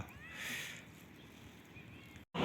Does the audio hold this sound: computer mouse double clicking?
no